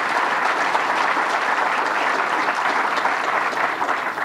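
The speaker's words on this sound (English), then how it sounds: "Let's give the county executive and chairperson a big round of applause." Steady, loud applause from an audience fills a hall for a county executive and chairperson at a government announcement, an even wash of many hands clapping without pause for a few seconds.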